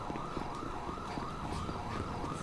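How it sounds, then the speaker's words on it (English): A police siren in GTA 5 with the LSPDFR mod gives a rapid yelping wail that rises and falls about twice a second, continuous and moderately distant, over low vehicle rumble. "I can hear it because of the siren."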